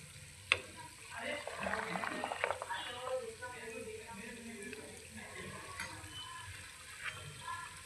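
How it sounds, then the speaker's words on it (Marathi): Homemade clarified butter (ghee) simmering in a pan, with a soft, steady bubbling sizzle and small pops at low volume, a sharp clink near the start and a person speaking over it. "तूप गरम असल्यामुळे, उकळता असल्यामुळे"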